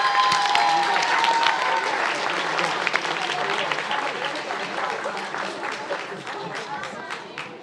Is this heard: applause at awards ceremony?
yes